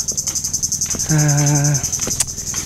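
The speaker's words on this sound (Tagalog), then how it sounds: "Ayun yung parang insekto o hayop na yung maingay, ganyan." Loud insects called duri-duri chirp in a constant high pulsing drone near a shore at low tide, close and steady, with a brief low buzzing hum over it partway through.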